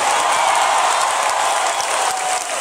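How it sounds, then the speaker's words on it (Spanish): A crowd at a community event in San Pablo del Monte bursts into loud, dense applause, a sustained wash of clapping that holds steady and fades slightly near the end. "¡Aplauso!"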